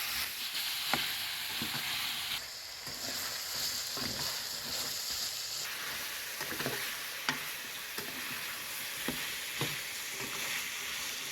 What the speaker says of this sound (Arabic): وندي البطاطس تشويحه حلوه مع البصل.